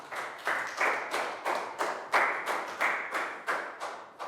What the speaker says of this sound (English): a round of applause for Pat